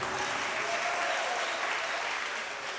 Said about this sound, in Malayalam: എനിക്കൊരു കയ്യടി തരും.